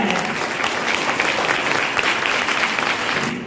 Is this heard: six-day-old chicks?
no